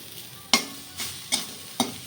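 Steady oil sizzle of eggplant frying, with several sharp scraping stirs of a utensil against the pan, close and fairly loud.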